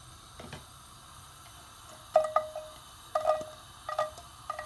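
Chopped garlic dropped into about five spoons of hot oil in a stovetop pan, crackling in a few short sizzling bursts with quiet pauses between, close by and with no talk.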